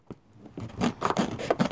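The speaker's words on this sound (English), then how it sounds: "First thing we do is cut the cover." Scissors or a blade cut through a tent's fabric cover in several quick, close snips and rasping slices, a short burst with no talking.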